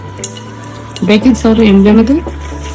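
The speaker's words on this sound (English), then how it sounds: "So I'm just adding the greens in." Cleaned collard-style greens are dropped into a cooking pot, giving a soft rustling, clattering tumble of leaves against metal for about a second, close and clear over a low steady kitchen hum, with light talk nearby.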